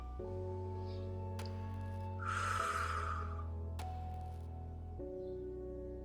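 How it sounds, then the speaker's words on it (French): A single deep breath drawn in through the nose, heard close and alone over a sustained soft musical drone, rising and fading in about a second during a calm guided meditation. "Inspirez"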